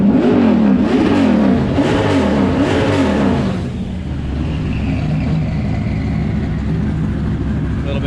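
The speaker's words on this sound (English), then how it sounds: "So we rev the shit out of it." Turbocharged race car engine revs hard at a Gridlife South track event, a loud, rough roar for about four seconds that drops to a steady, lower idle rumble.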